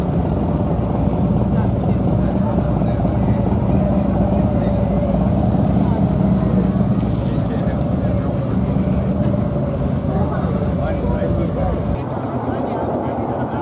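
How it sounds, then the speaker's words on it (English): Motorcycles arrive for a women's rally ride at the castle in Palmerston North, New Zealand: loud continuous engine rumble nearby, with people talking over the noise. "More bikes arriving."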